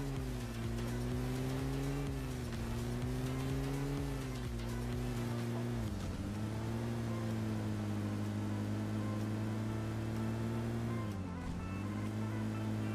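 Vehicle engine drone from a car driven in PUBG Mobile, a steady loud hum with gentle pitch swells as it accelerates, running continuously without speech.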